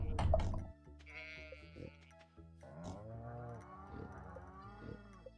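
Farm animals in Stardew Valley let out several quavering bleats in a row, moderately close and fairly quiet, with no talking over them.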